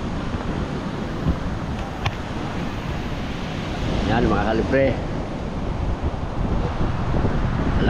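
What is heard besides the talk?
strong wind and sea waves during Typhoon Ompong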